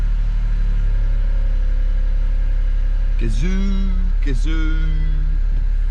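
A Toyota Gazoo Racing Australia big-block race car engine runs with a steady, loud, low drone that holds throughout, and someone speaks briefly over it.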